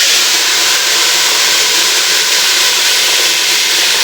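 Brinjal and tomato vegetables hitting hot oil in a tadka, a loud, close, steady hiss of sizzling that holds without a break.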